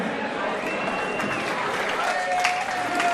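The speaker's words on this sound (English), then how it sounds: "Big round of applause for Han." A crowd at an MMA tournament applauds fighter Sung Hwa Han, a dense, steady wash of clapping and cheering that carries evenly through the whole stretch, with voices mixed in.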